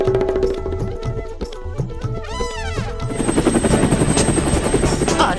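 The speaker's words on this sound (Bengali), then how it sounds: "ইঞ্জিন কেন শুরু করে দিলে?" A cartoon helicopter engine starts up with a rising whine and then settles into a loud, steady rapid chopping of rotor blades, heard alone.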